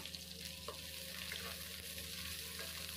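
Chopped onions and fried chillies sizzle softly in a pan, a steady low frying hiss with a few light stirring scrapes, faint and close, no voices.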